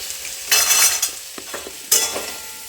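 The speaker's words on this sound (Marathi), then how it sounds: "हे सगळे ना भाजून घेते मी. कांदे, लसूण आणि खोबरं." Onion, garlic, coconut and a few cashews dry roasting in a pan, with loud close stirring scrapes in two bursts and a light sizzle between them, no voices.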